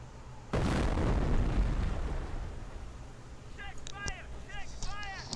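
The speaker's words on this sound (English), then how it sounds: "Continue to barrage the enemy squad until they are defeated." An artillery barrage in the video game Company of Heroes opens with one loud, close blast that rolls into a long decaying rumble, followed by a few fainter distant thumps and some short whistling or whining tones near the end.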